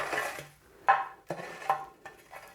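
Crispy oven-cooked seaweed handled on kitchen towel, a series of close, dry crackling rustles in separate bursts with brief pauses between.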